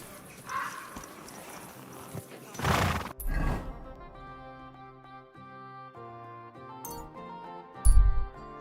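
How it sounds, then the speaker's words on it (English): A horse in the video game Kingdom Come Deliverance 2 gives one loud, close whinny, with clopping hooves around it, set against steady in-game music and a sharp thump near the end. "How else am I supposed to call my damn horse now?"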